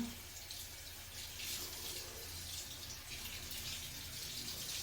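Water streams steadily from a tap over hands being wetted at a sink, a continuous broadband hiss lasting throughout at moderate, even loudness with no voices.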